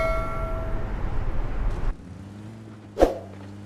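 In the mobile game PUBG Lite, a car's engine roars in a loud, noisy rumble that cuts off into a quieter, steady humming drone, followed by a single sharp thump near the end.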